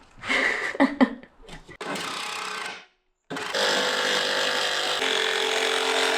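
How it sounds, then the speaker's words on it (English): Timber for behind the paneling in a van build is cut, with short rasping strokes at first and then a long continuous cutting run after a brief silence, close and fairly loud with no talk over it. "he trusts me enough just to cut this bit of timber that's going to go behind the paneling"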